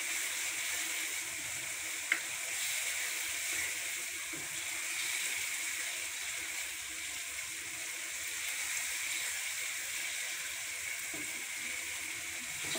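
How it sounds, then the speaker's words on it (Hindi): Chicken liver fries with masala spices in a pan, a steady, continuous hiss and sizzle close by that holds evenly throughout with no talking. "पाँच मिनट तक हम लोगों ने इसको ऐसे ही फ्राई करना है, मसालों के साथ भूनना है।"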